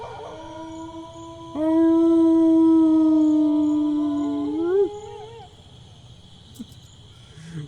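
People imitate a wolf howl in one long, loud sustained call that wavers and rises at the end, then fades into a quiet night background with faint insect chirping.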